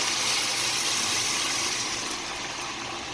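Hot water pours steadily onto stirred rice in a pot, a continuous rushing gush that slowly eases off toward the end.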